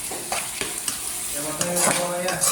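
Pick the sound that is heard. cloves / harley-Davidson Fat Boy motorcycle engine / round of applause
cloves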